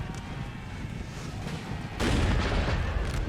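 Artillery fire in the Napoleon: Total War video game, a rolling rumble of cannon booms that swells into a louder burst midway, with no talking.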